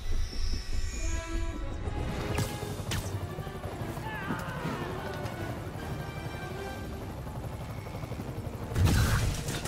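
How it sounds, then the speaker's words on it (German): A helicopter in the Spider-Man video game thrums under a dense, busy mix of game sound effects and thuds, loud and continuous throughout. "Ich muss Sie bitten, den Helikopter zu landen,"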